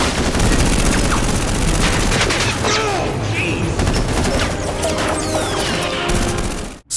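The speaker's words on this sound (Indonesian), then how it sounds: "Mereka juga memutuskan untuk baku tembak dengan Paijo agar bisa keluar dari pelabuhan." Gunfire in a dockside film shootout: dense, loud bursts of automatic weapon fire and scattered single shots crackle continuously for several seconds, mixed with crashing impacts and ricochet whines before cutting off abruptly.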